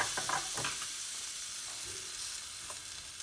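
Chicken tenders fry in a pan, giving a steady close sizzle and crackle with a few sharper pops, heard alone without voices.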